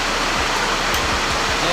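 Steady heavy rain falls outside, a dense, even hiss throughout with some faint low thumps and voice-like murmurs beneath.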